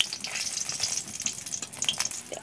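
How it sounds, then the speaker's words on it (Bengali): Chillies frying in hot oil for a jujube pickle, giving a dense, steady crackling sizzle with scattered pops, close and fairly loud throughout. "দেখো দেখো লঙ্কাগুলো একদম মা লাল লাল করে কালো কালো করে পুড়িয়ে ফেলছে"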